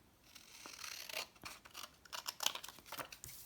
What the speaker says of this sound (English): We can just cut them down.